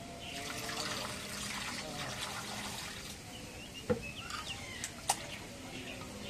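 Cut broiler chicken meat is washed under running water, a continuous splash and trickle of water with a few sharp knocks and clanks of meat or a vessel in the sink, and some voices in the background.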